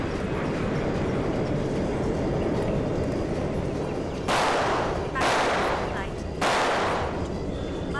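Three sharp bursts of gunfire ring out over a loud, rumbling background, spaced about a second apart near the end.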